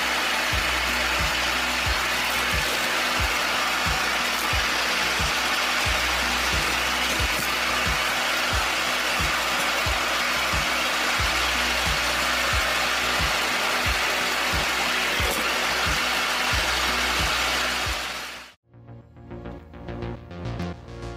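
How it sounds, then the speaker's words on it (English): An automatic firewood processor with a chainsaw blade cutting logs runs continuously with a rapid, steady mechanical chatter and engine drone, then cuts off abruptly near the end, leaving quieter clattering. "It automatically clamps and feeds wood for cutting, with the chainsaw blade quickly creating small logs."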